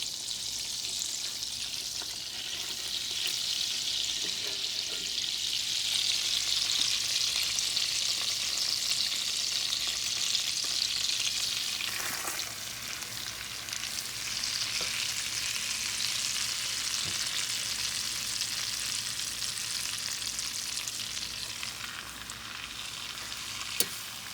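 Food frying in butter and olive oil in a pan, a loud continuous close sizzle and crackle that swells briefly midway, with faint stirring and no talking.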